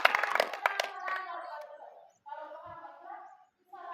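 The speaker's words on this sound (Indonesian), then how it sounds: "Tepuk tangan dulu semua" Schoolchildren clap their hands in a short burst of sharp, uneven claps at the start, soon giving way to children's voices talking in a classroom.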